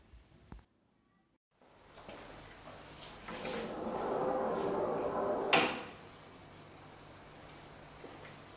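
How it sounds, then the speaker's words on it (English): A soft-closing sliding barn door made from live-edge wood glides shut in a quiet indoor room. It starts with a soft rolling rumble that builds for a few seconds, then ends in a gentle thud as the mechanism catches, with a faint knock earlier. "it was just very pleasing to see how well that the soft closing mechanism works on this door"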